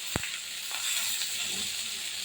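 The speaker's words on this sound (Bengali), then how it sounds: "টমেটো দিয়ে একটু নাড়াচাড়া করে নিই" Onions and tomatoes fry over a low flame in a pan, giving a steady close sizzle with a sharp clack of the spoon near the start and soft stirring scrapes after.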